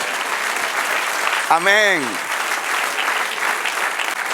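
Members of a church congregation clap continuously in a steady, close crowd texture. A voice calls out once above the applause partway through.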